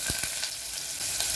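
Asafoetida, curry leaves and onion frying in hot oil for spinach khichdi, a close, continuous bright sizzle with a couple of soft stirring thumps.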